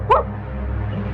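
A dog lets out a single sharp bark or yip near the start, then only a low background hum remains.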